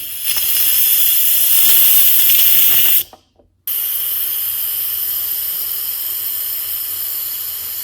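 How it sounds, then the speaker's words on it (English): An Instant Pot releasing pressure after cooking creamy macaroni and cheese, with steam hissing loud and steady close by, a brief cutoff in the middle, then the hiss resuming at a constant level. "Let's release the pressure."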